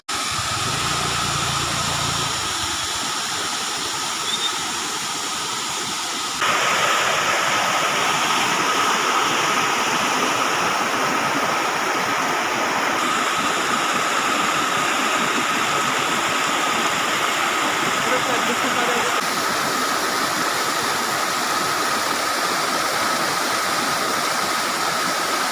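A small waterfall in the hills near Kasauli, Solan, gives a continuous broadband rush of falling water. It grows fuller and louder after a few seconds and then stays steady without voices.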